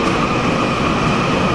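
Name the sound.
riding on a train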